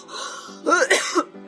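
A short fit of coughing, a few rough throaty bursts in quick succession, close and fairly loud.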